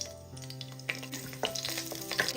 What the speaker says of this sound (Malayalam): ചെറുതായിട്ട് ഇതൊന്ന് മൂത്ത് നല്ലൊരു മണം വരുന്നവരെ ഇളക്കി കൊടുക്കാം